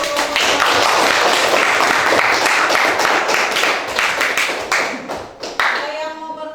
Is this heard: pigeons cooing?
no